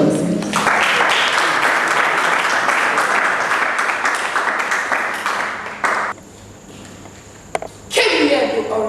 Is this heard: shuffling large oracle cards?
no